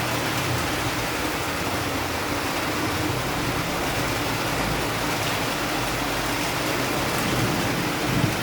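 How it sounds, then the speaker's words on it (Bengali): Heavy rain lashing down with strong gusting wind, a dense, steady roar of close, loud downpour that fills the whole stretch without pause. "বৃষ্টির এত প্রেসার আর এত হাওয়া, ক্যামেরা ফোকাস করতে পারছে না বেবিটাকে"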